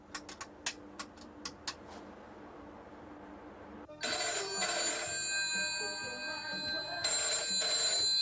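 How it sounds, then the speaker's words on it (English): A telephone rings at the other end of a call placed from a public phone box, heard as repeated bursts of bright electronic trilling after a few faint earlier rings, fairly loud and steady. "Lorraine told George she had to ring her friend to ask him to meet her."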